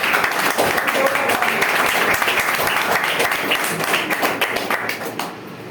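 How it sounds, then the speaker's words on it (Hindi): Loud, steady applause from a large audience at a business plan presentation, dense clapping filling the room without a break before easing slightly near the end. "जोरदार तालियां बजाइए"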